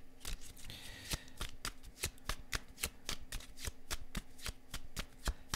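Playing cards for fortune-telling are riffled and laid down in a quick, steady run of crisp snaps and flicks, close and clear with no talk over them.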